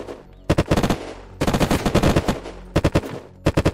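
Gunfire in the survival video game Unturned: loud, close bursts of rapid automatic shots in several rhythmic volleys separated by short pauses.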